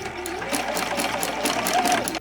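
A sewing machine runs steadily while stitching a quarter-inch seam all the way around a stretchy fabric tube for a headband, one continuous close whir with no pauses.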